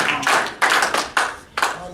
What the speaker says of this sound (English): The clap of praise.